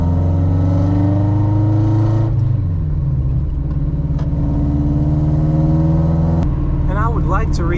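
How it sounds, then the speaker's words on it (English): Exhaust of a B-swapped Honda Civic while driving, a loud steady drone that shifts pitch as the engine revs change, heard close from inside the car with a short rising rev near the end. "that exhaust doesn't sound all that bad"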